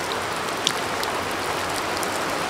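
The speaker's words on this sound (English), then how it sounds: "This big rainstorm just hit, so it's getting kind of late in the evening." Heavy rainstorm in the late evening at an outdoor building site, a steady dense hiss of rain falling on surfaces, continuous and fairly loud, with no voices.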